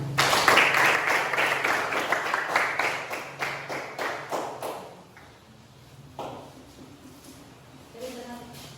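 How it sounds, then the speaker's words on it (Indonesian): A classroom group claps for a presenting team, a dense burst of applause lasting about five seconds before fading into a quieter room with a few faint voices and small knocks. "Oke, aplaus untuk kelompok 1."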